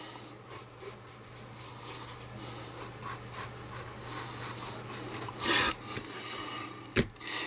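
A pen scratches and rubs across paper in a steady run of short strokes while someone draws dreadlocked hair, with a sharper tap near the end and no talking.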